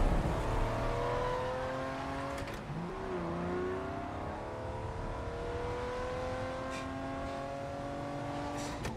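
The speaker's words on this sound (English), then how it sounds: "The sound of the car's engines" Race car engines from the Hot Wheels AcceleRacers animated movie rev steadily, their pitch rising and falling as the cars accelerate, heard clearly with no talking.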